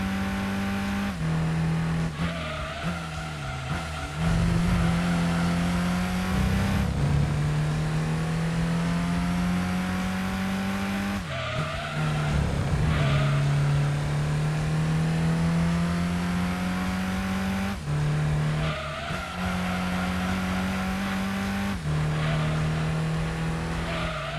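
Racing car in Gran Turismo 2 during a luxury four-door cup race, its engine droning steadily and climbing through gears with sharp shifts, tires squealing through corners, close and continuous without talk.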